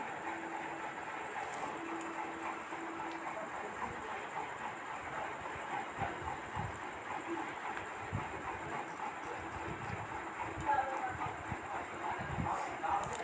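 Steady railway station ambience on an Indian platform near Ranaghat: a continuous rumble and hiss of trains and crowd, with faint clicks and a brief low hum, at a moderate distance throughout.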